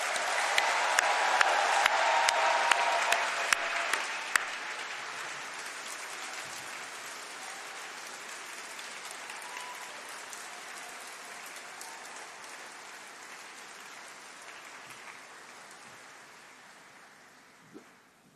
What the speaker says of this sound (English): But can we have a really big round of applause and cheers for all those that have